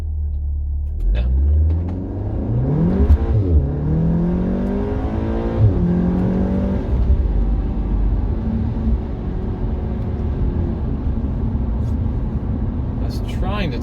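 An Integrated Engineering stage 2 Audi S3 with a manual gearbox accelerates hard from 0 to 60 with traction control on and wheelspin. The loud, close engine roar rises in pitch through several gear shifts, then settles into a steady rumble.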